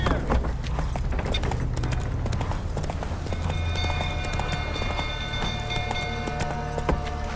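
Roach, Geralt's horse in The Witcher 3, gallops in steady clip-clop hoofbeats over a dense game soundscape of fire, shouting and low rumble, with a faint voice now and then.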